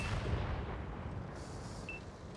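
Tank cannon fire in World of Tanks Console, a deep booming blast with a long rumbling tail, heard at moderate volume without speech.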